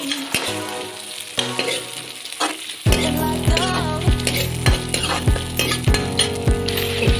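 Meat and onions frying in a pan, steady sizzling joined partway through by repeated sharp metal clinks of stirring against the pan.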